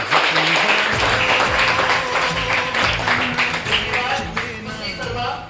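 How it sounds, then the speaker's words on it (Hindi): A crowd at a ceremony claps continuously, a dense steady patter of applause with voices and music faintly mixed underneath. "खड़ा हो जाए तालियां हो जाए"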